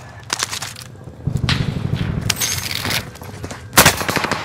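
Video game gunfire: rapid bursts of automatic shots and separate sharp cracks, loud and close, some clustered in quick strings and a strong blast near the end.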